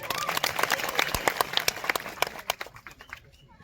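Event crowd applauding, a brisk burst of many hands clapping that thins out and fades to quiet near the end.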